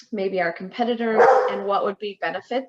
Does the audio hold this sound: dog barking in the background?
yes